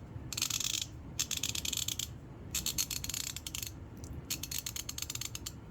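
A DURATECH 90-tooth, extra-long-handle half-inch ratchet clicking in four separate bursts of rapid fine ratcheting with short pauses between, close and fairly quiet.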